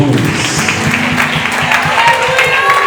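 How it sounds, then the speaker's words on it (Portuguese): Church congregation applauding loudly after a pastor's sermon, a dense continuous wash of clapping with crowd noise and tonal music or voices underneath throughout. "Vamos aplaudir bem forte Jesus."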